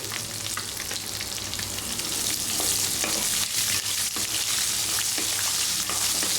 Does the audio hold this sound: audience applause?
no